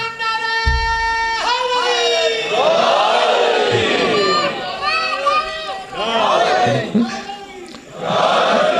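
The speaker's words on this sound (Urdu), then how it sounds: "بہتر ہے کہ میں آپ کو نعرے کی چھٹی دے دوں" A crowd at a religious gathering chanting slogans in unison, heard as loud, close, repeated rising and falling group cries that swell in waves across the whole stretch.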